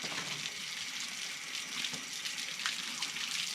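Water splashes and hisses steadily as it rinses a freshly cleaned wild hog carcass outdoors, quiet and continuous with no talking.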